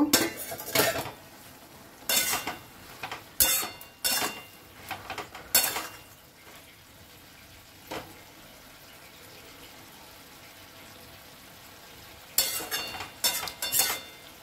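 A metal spoon clanks and scrapes against a pot of cooking winter vegetables in short bursts, separated by quiet stretches of soft simmering, close and with no talking.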